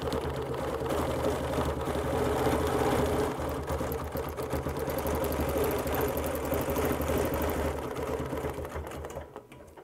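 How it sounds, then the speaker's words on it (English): A sewing machine quilts a circle guided by a ruler on an I Spy bubble-style quilt, its steady rapid needle chatter running continuously and close up, fading slightly at the end. "I'm going to place it down, then I'm going to quilt all the way around."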